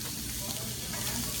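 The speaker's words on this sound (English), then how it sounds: "you want to start sautéing those shallots real quick without putting any color on them" Shallots sauté in a pan with a little added fat, giving a brief, even sizzle and crackle close up with no break.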